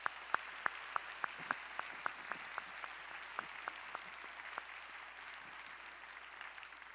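Sparse, distinct handclaps sound from a church congregation during a Sunday service. They are quiet and spaced out, then thin and fade away with no talking.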